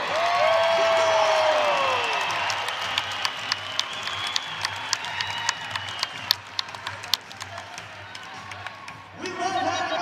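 A crowd at a Utah Valley college wrestling dual against Nebraska claps and cheers for wrestlers Scotty Robertson and Brock Hardy, with sustained applause, scattered whoops and a few sharp claps, while a voice carries over the start.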